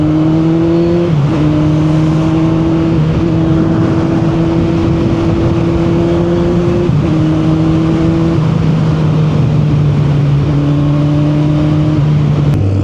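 A Kawasaki Z1000R motorcycle engine revving while riding, loud and close, with a steady drone stepping up and down through repeated throttle blips and gear changes, no talking.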